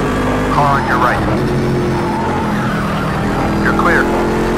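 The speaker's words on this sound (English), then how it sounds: "Car on your right." A race car in Project CARS 2 roars past on the right with a steady, loud engine drone and brief tire squeals, while a spotter's voice talks over it.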